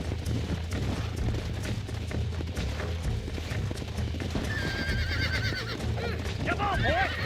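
A horse in Red Dead Redemption whinnies and stamps while being broken in, with hooves clopping under continuous game music and voices talking, and a loud neigh rising near the end.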